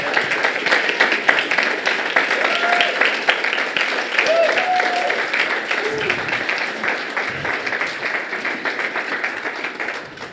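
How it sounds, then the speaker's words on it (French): Church congregation applauding Lisa, dense sustained clapping that fills the room for about ten seconds, with a few voices and cheers scattered through it before it starts to thin toward the end. "J'aimerais ça, premièrement, que vous applaudissez Lisa pour tout le travail qu'elle fait pour l'œuvre de Dieu."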